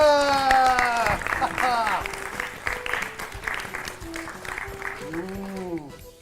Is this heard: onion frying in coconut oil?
no